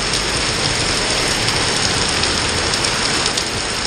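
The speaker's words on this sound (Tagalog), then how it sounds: "lakas po ng ulan" Heavy rain pours down on a street corner, a loud, dense and unbroken hiss of drops hitting surfaces, steady throughout with no voices.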